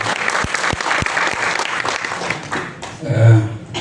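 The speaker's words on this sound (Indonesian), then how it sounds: "Sekali lagi tepuk tangan buat Tuhan yang baik" A church congregation at a Sunday worship service claps together, strong rhythmic claps at first giving way to looser applause, with a brief sustained tone and some voices near the end.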